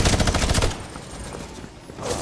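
A rapid burst of video game gunfire rattles loudly for under a second, then fades to a quieter lull before another burst begins.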